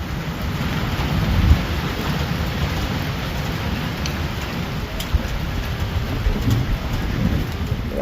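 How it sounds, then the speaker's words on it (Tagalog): Heavy rain pours steadily in a thunderstorm with strong waves, a dense hiss over deep rumbling, with a thunder crack early on and further low rolls of thunder. "inabutan na kami ng ulan. Inabutan na kami ng unos dito kay Nanay Rosa"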